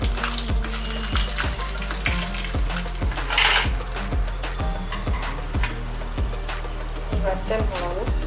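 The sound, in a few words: tempering frying in a pan for jackfruit erissery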